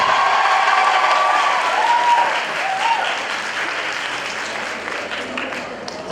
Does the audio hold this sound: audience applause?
yes